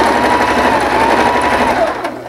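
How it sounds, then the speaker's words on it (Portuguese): A sewing machine runs in one continuous close, steady whir while stitching a fabric face mask with elastic, slowing slightly near the end. "E vamos costurar."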